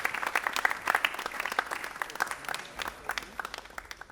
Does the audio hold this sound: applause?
yes